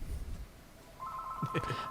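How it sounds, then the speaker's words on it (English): A telephone bell rings out in the second half, sharp repeated electronic trills after a quieter stretch of room noise, close and fairly loud. "And the phone rings."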